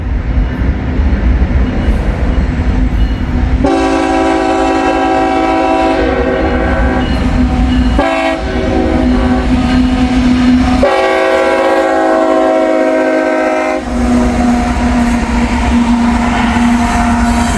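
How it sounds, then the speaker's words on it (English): A loaded CSX coal train rumbles past close by with a continuous roar, while its horn sounds in several long blasts. "That's a full coal train here."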